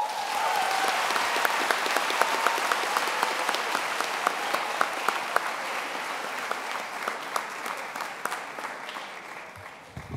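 A graduation ceremony audience applauds a departing speaker with steady, dense clapping that fills the whole stretch, holding at an even level before easing slightly at the end.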